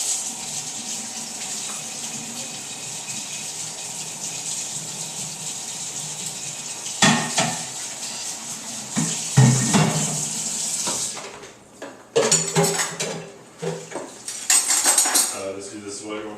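Dishes and silverware clatter and clink as a dishwasher is unloaded at home, with a steady hiss of running water beneath and sharper bursts of clanking toward the end.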